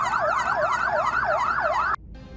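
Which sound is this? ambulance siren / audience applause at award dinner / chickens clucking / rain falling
ambulance siren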